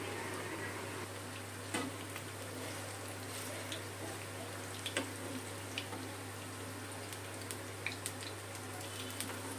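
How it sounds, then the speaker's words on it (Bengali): Malpua fry in oil in a frying pan, giving a faint, steady sizzle with scattered small crackles and pops throughout, alone with no voices. "ফ্রাই প্যানের মধ্যেই মালপোয়াগুলো ভেজে নিচ্ছি"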